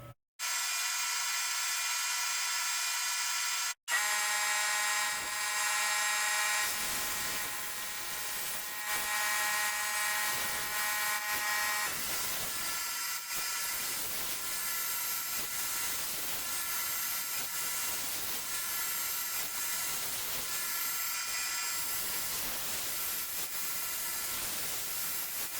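CNC machine cutting a part, a steady high whine with faint hiss that cuts out briefly near the start and then runs continuously at low level.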